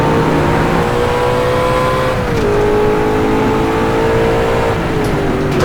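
An Ultima GTR engine rises steadily in pitch as the throttle is fed in, a loud, close, continuous drone with a brief dip partway through as the driver short shifts.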